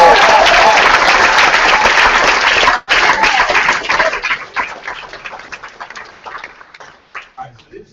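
Summit audience applauding loudly with dense clapping for about three seconds, then a brief break and a thinner, tapering spatter of claps that fades toward the end.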